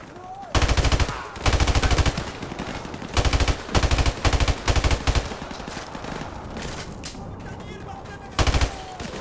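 Bursts of automatic M16 rifle fire in the Call of Duty: Modern Warfare Remastered video game, several loud, close volleys of rapid shots separated by short pauses, with game ambience filling the gaps.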